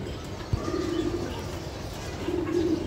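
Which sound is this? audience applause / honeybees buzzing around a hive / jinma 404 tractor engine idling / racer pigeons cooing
racer pigeons cooing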